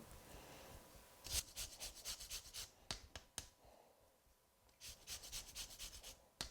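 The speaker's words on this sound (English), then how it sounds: "Oftentimes when I'm using lemon juice in something, I also like to add the zest." A lemon is zested against a grater in a home kitchen, giving bursts of dry, close rasping strokes in quick rhythmic runs separated by short pauses.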